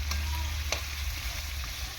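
Shrimp frying with potatoes in a pan for a bottle gourd and shrimp dish, a steady close sizzle with a couple of sharp spatter pops, alone without voices.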